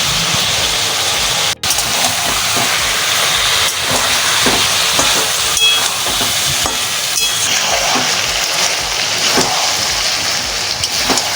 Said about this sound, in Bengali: এবার এর মধ্যে আমরা একদম সরু সরু করে কাটা পেঁয়াজ দিয়ে দেব, দিয়ে ভালো করে আবার ভেজে নেব